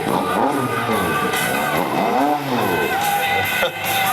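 BMW stunt motorcycle spinning its rear tire in a show, a continuous loud engine roar with shifting revs and tire noise, rising and falling pitch sweeps throughout, crowd ambience underneath.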